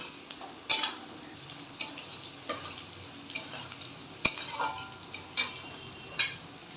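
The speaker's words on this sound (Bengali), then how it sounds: "এটা ভাজা ভাজা হতে আর একটু সময় লাগবে" Green jackfruit and chicken frying in a pan with repeated stirring strokes, several sharp scraping clinks of a utensil over a soft continuous sizzle, close and fairly quiet with no talking.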